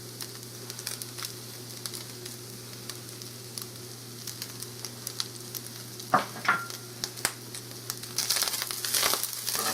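Ingredients for a cheesy one-pot pasta and meat meal sizzle and fry steadily in a pot on the stove while being stirred. A constant low hum runs underneath, and crackling scrapes and pops grow louder toward the end.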